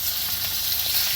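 Sliced onions sauté in hot coconut oil, giving a steady, close hiss and crackle of frying that carries on evenly with no talk.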